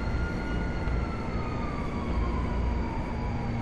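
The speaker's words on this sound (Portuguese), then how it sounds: "Aí, trem." Train rumbling past in GTA Online, a steady, loud rolling roar with faint tonal hums that holds level throughout, with no voices over it.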